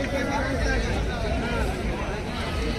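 Dense crowd murmur at a busy buffalo market in Nanded, a steady wash of many overlapping voices with some low rumble, continuous and fairly loud throughout.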